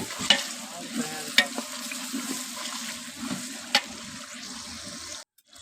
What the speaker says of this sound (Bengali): দেখো সবজি আরও মশলা দিয়ে এবার এটাকে মিক্স করা হচ্ছে